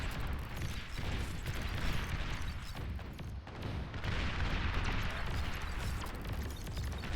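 Rockets firing in the real-time strategy game Beyond All Reason, a dense, continuous roar of booming launches and impacts with rumbling low end, loud and unbroken with no talk.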